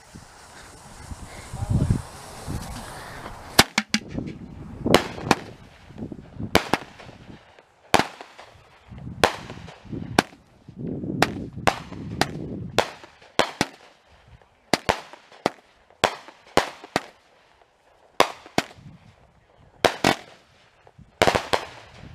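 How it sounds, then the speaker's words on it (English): Firework cake going off at a Fourth of July celebration: a rapid, irregular volley of sharp, loud bangs and crackles, some shots in quick pairs, continuing for over twenty seconds after a low rumbling start. "Fire in the hole, here comes a cake."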